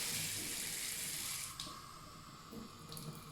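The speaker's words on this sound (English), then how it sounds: "all I do is get some hot water flowing." Hot water gushes steadily from a tap, a close, continuous rushing stream that softens slightly partway through.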